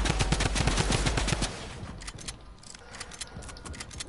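Rapid video-game gunfire in Rocket League, a loud burst of closely spaced shots that cuts off after about a second and a half, followed by scattered quieter shots and clatter.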